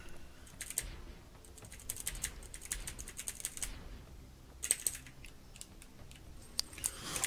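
Computer keyboard typing, close and fairly quiet: rapid clusters of clicky keystrokes, a pause in the middle, then more bursts, no talking.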